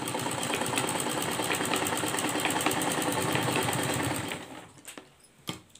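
A sewing machine stitching a kurti neck onto fabric, running in a steady, fast mechanical whir with rhythmic needle clatter for about four seconds before stopping, leaving a few faint clicks.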